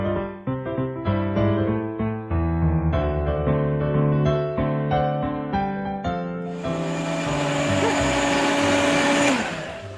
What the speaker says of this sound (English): give her a blend